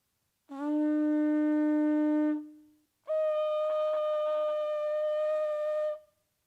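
An ancient Strombus conch shell trumpet from Chavín de Huántar sounds two long, steady, horn-like blasts, the first lower and the second brighter, each held for a couple of seconds and heard alone.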